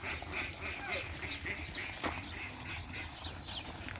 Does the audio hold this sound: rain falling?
no